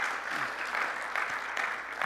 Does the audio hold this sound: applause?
yes